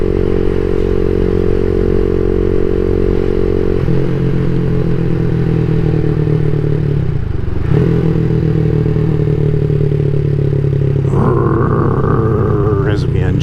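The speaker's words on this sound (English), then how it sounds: "There's the engine brake" A CSC SG250 motorcycle with a MotoCult Stage 4 exhaust revs and drones loudly and steadily, then drops into engine braking as the rpm falls, with a brief rise near the end.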